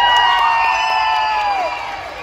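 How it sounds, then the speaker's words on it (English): An audience of children and adults at a mock meet cheers and whoops loudly for a moment, with high shouting voices ringing over the crowd and fading slightly at the end. "Clap for Alicia."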